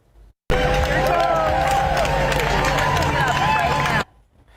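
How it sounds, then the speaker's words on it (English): A crowd cheers, shouts and applauds loudly as the bronze Robert E. Lee statue in Charlottesville, Virginia is taken down, a dense continuous roar with whistles and clapping that cuts off abruptly. "Cheers and applause could be heard by those who watched a statue of Robert E. Lee being taken down"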